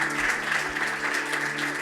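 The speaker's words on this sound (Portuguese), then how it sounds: "Vamos aplaudir ao Senhor" A church congregation applauding steadily for about two seconds, a dense even wash of clapping throughout with no voices over it.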